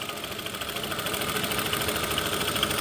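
Sewing machine stitching the seams of a cotton palazzo: a faint, steady mechanical whirring with a rapid, even needle clatter running continuously, heard on its own.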